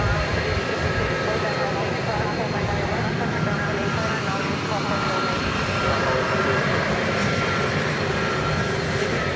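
An Airbus A300 jet airliner at DFW Airport gives a constant, loud, broadband engine roar with no break, close and steady throughout.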